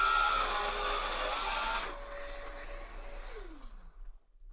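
A Festool KSC 60 KAPEX cordless sliding compound miter saw cuts with a loud, close buzzing blade through the cut. It then drops to a tonal hum that winds down in falling pitch before fading to silence.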